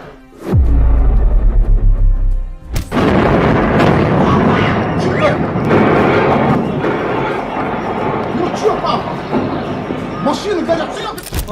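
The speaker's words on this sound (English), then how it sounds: "The gas station exploded, injuring 4 people who were quickly provided with medical assistance." A gas station explodes with a sudden loud boom, then a long, rumbling roar of fire and debris that slowly fades, with mixed noise and commotion.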